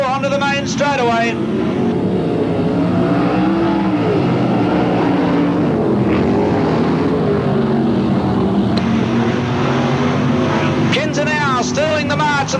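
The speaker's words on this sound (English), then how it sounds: "as they race off turn 4 onto the main straightaway" Sprint cars racing on a dirt speedway at Parramatta City Raceway in 1985, a loud constant engine roar with rising and falling pitch as cars pass, and an announcer talking over it.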